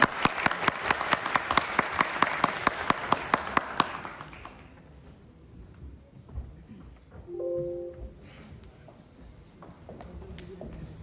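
Audience applause at an award night in Turkey honoring legendary Trabzon wrestling master Seyfettin Selim, as he is invited on stage to present the honor award; dense rhythmic clapping fills the first four seconds, then fades into quiet room noise with brief murmurs.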